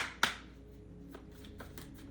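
Tarot or oracle cards being shuffled by hand, one sharp riffle followed by a few soft, quick flicks and taps at close range in a quiet room.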